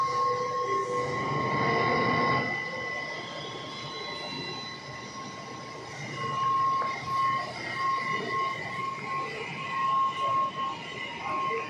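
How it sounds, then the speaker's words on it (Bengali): Kolkata Metro Orange Line train departing its platform for Ruby, a steady rumbling roar with a sustained high whine and faint wheel squeal, swelling and easing as it pulls away, heard alone at moderate volume. "তো অলরেডি প্রথম মেট্রো কিন্তু তার গন্তব্যস্থল রুবির জন্য কিন্তু ছেড়ে দিয়েছে"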